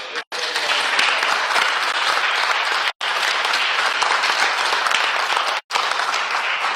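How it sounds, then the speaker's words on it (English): A large audience at a service dog class graduation claps loudly and continuously for the recipients, with a few abrupt cuts breaking the steady applause. "So how about a big giant round of applause for our recipients today?"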